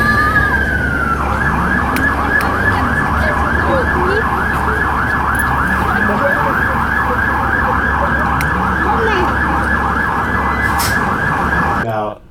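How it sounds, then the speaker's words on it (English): An ambulance siren wails loudly and continuously in a rapid rising-falling pattern over a low rumble of traffic. "the ambulance sirens as well as its lights were flashing"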